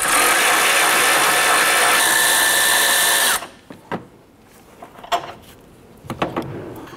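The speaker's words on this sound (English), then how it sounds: "Now you switched over to a power tool to go ahead and remove these nuts" A power tool, likely an impact gun, zips off strut nuts on a 2009-2015 Honda Pilot, running loud and continuous for over three seconds, then stopping into clanks and handling knocks.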